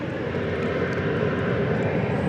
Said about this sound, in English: There's American Eagle 3575 coming in from Wichita, Kansas